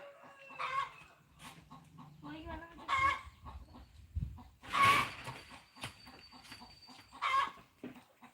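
Poultry hens on a farm give repeated clucks and squawks in bursts, moderately near, with a faint voice talking in between the calls.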